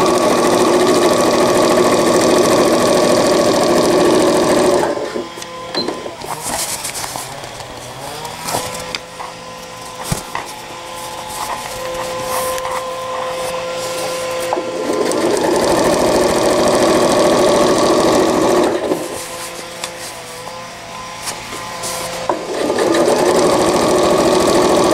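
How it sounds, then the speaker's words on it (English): A sewing machine stitches an elastic casing on a diaper cover in two steady runs, near and loud, with a quieter pause between them filled with small handling noises. "And I'm going to sew a casing."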